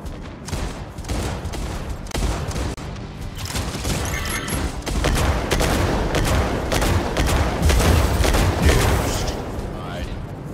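Gunfire from mechs in the video game Mech Arena, dense rapid volleys and blasts running continuously and growing louder toward the end, with game voice announcements mixed in.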